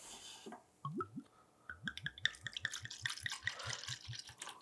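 Coconut rum glugs out of a bottle into a measuring cup in a rapid series of close, rhythmic gurgles and bubbling pours, growing busier as the cup fills.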